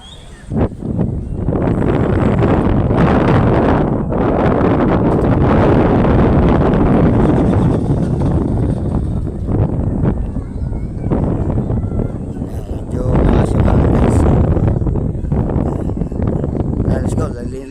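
Steady, loud wind roaring across the microphone with broadband buffeting throughout, with no voices.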